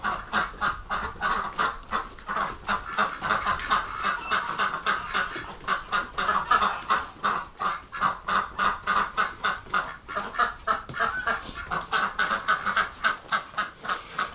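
Group of ducks calling outdoors in winter, a dense, continuous chorus of rapid honking quacks that grows into a pulsing rhythm toward the end, nearby and fairly loud, no talk.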